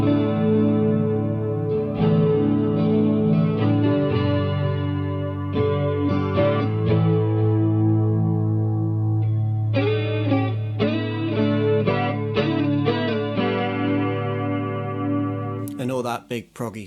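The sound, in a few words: clean electric guitar amp with tape delay effect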